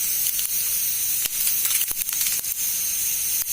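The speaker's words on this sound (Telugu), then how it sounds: "పోపు గింజలు వేస్తున్నాను." Tempering seeds hit hot oil in a pan and give a bright, continuous sizzling hiss, with sharp spitting pops and crackles scattered through it.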